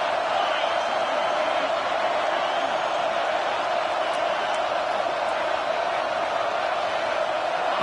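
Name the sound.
stadium crowd cheering in Madden football video game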